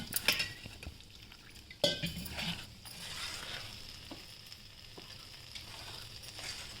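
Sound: stirring potato batter for homemade pizza

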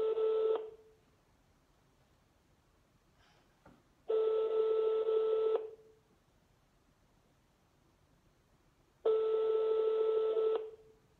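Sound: telephone call ringing unanswered

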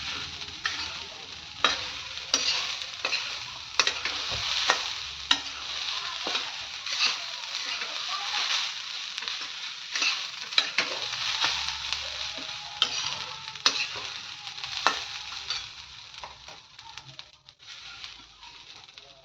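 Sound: stirring coconut roasting with ghee in a pan

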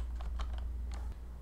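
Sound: typing a name for a new folder on a computer keyboard

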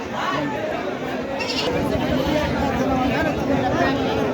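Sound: goats bleating at a goat market

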